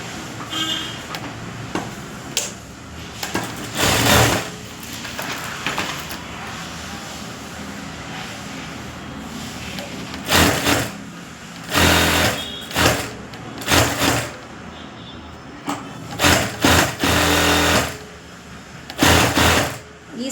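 A sewing machine stitches a puff sleeve in several loud, buzzing runs of a few seconds each, separated by pauses, while someone talks between and over the bursts.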